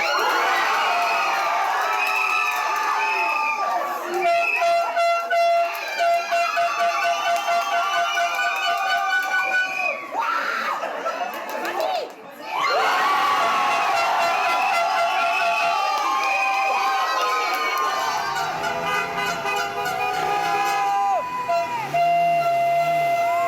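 Football fans celebrate in the street with car horns blaring in long, overlapping tones over steady crowd cheering and shouting. The din stays loud and continuous throughout, with one brief dip midway.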